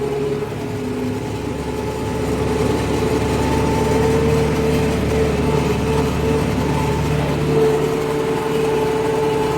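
A tractor engine drones steadily under load in second gear, pulling a homemade deep subsoiler at about 7.5 km/h, a continuous low rumble with a constant pitch, close and unbroken for the whole stretch.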